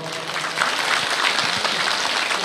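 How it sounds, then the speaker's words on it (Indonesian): An audience at an Islamic religious lecture claps together in a sustained round of applause, dense and fairly loud, with a few voices mixed in. "Tepuk tangan dulu dong."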